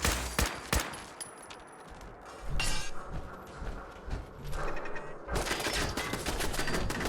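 Automatic turret gunfire in the video game Fallout 4, with bursts of rapid shots and sharp clinking impacts that come and go, then a dense sustained volley near the end.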